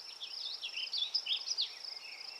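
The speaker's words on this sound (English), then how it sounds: "If you listen, tons of birds chirping." Birds chirp and trill continuously at a quiet campsite beside a reservoir, rapid high, thin calls overlapping at moderate distance with no talking.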